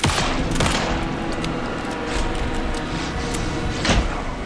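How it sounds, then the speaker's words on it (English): Rapid bursts of gunfire in the video game Alan Wake 2, a dense sustained fusillade with sharp cracks spread through the whole span at steady loudness, no talk over it. "Anderson, pin him down with his gunfire for me to get the light on."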